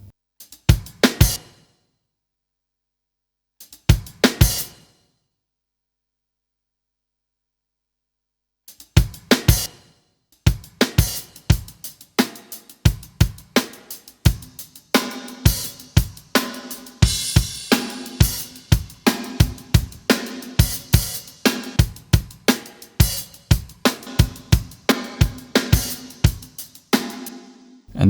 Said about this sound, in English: let's listen to the drum mix without the reverb first